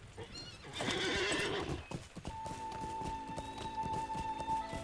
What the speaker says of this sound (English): Hop back on our horse and keep going.